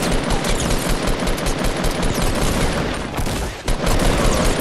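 Rapid, sustained machine-gun fire from a shooter video game, loud and nearly continuous throughout, dipping only briefly before resuming.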